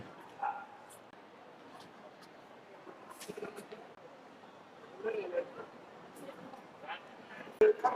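Dogs at a 2023 pet expo in Bangkok give a few scattered, fairly faint barks and yips over a constant crowd murmur, with a sharper louder yelp near the end.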